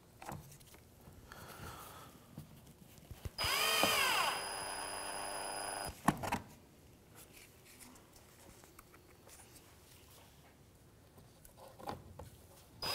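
A power screwdriver whirs for about three seconds, driving a Phillips head screw into the front bumper grille trim of a Mitsubishi Outlander, with quiet handling clicks and rustles before and after.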